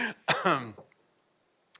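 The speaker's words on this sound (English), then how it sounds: "I'm coughing" A few short, harsh coughs or throat-clearing bursts in quick succession, close up, followed by quiet and a faint click.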